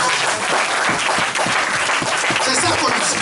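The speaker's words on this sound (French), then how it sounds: "Une acclamation." A church congregation at a tabernacle service breaks into loud, dense applause that continues without a break throughout, with possible cheering mixed into the clapping.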